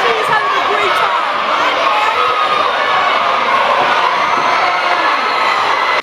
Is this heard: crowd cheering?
yes